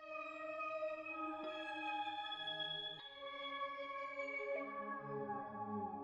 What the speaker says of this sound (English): I've just added this little pad sound which sounds like this